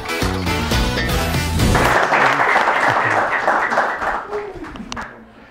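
Audience applause at an Ethiopian stage performance, a dense burst of clapping rising after a musical passage and holding steady before tapering off, with some voices mixed in.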